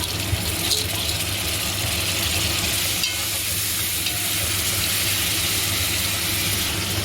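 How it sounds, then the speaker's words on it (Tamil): Onions frying in a pan as tomatoes are added for quail gravy, a loud, steady close sizzle with faint stirring scrapes throughout and no talking. "தக்கா வெங்காயம் பொறிஞ்சிட்டு தக்காளி பழம் போடுறேன்"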